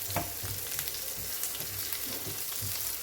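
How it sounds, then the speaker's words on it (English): Garlic, chili and urad dal fry in hot oil in a pan, a steady dense sizzle with soft stirring scrapes throughout, close and continuous with no talking. "We'll fry till the raw smell of garlic goes, but don't allow the urad dal to burn."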